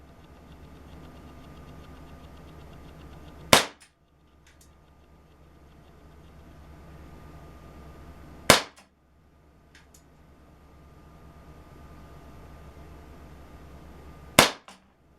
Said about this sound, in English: Safety off. Shooting in single action, of course.